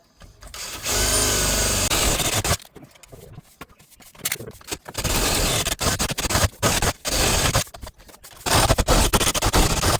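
A power tool cuts down a door in loud, uneven bursts of harsh grinding noise, stopping and restarting several times with short quiet gaps, and no voices.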